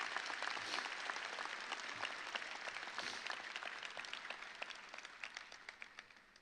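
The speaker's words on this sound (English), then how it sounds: "Let's give a round of applause to the thousands of people that helped bring you here tonight" Crowd applause at a graduation ceremony, a dense patter of many hands clapping at a distance, steady at first and thinning toward the end.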